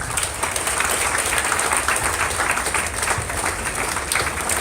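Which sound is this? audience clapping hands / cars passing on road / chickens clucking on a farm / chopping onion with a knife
audience clapping hands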